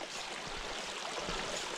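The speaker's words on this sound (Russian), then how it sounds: "Вот такой вот ручеек." A small stream of spring meltwater rushes and burbles in a continuous close wash, with no voices over it.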